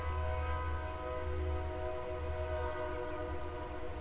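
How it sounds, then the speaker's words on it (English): A real train rumbles past outside, a low steady drone with sustained tonal horn-like hum layered above, holding fairly loud and constant throughout. "Oh, stupid train in real life."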